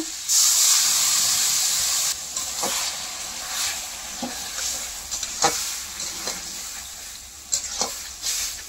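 A sharp, loud hiss as water hits a hot wok of frying mustard, poppy seed and ginger paste, quickly fading into a gentle simmering sizzle punctuated by several scraping stirs.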